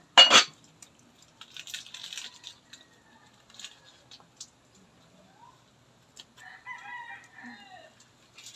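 A chicken gives a sharp squawk, then scattered soft clucks and a few short calls follow amid quiet pauses.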